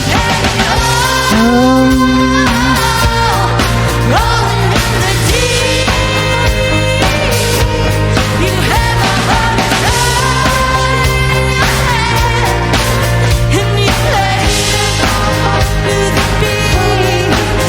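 A full band plays loudly and continuously, drums driving a steady beat under dense guitars and other instruments throughout.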